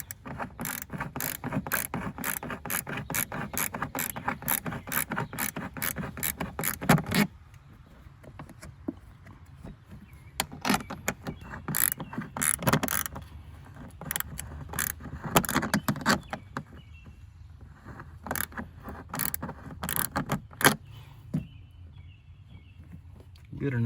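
Ratchet wrench clicks away in quick, steady bursts while loosening fasteners on the air intake of a 2017–2019 Ford F-250 with the 6.2L engine, close and loud, with short pauses between runs of clicking.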